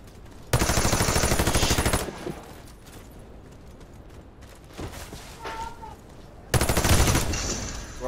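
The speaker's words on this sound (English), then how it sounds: "all he's got to do is shoot one time and he can get me" Rapid automatic gunfire in the online shooter Warface, two loud sustained bursts of about a second and a half each, with quieter game ambience and faint distant shots between them.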